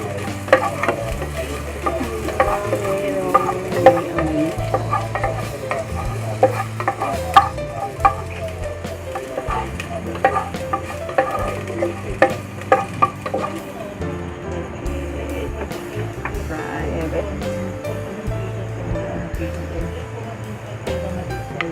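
Onion, garlic and ginger sauté for chicken tinola with a steady nearby sizzle and repeated scraping stirs and clinks of a spatula, while a person talks intermittently over the cooking.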